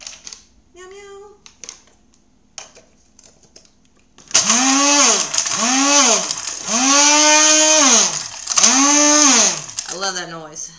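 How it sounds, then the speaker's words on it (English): A small coffee grinder grinding croutons into breadcrumbs whirs in repeated loud bursts, its pitch rising and falling with each pulse, after a quiet stretch with a few soft voice sounds. "And we put it in this little coffee grinder here."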